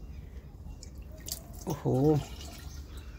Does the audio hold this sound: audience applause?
no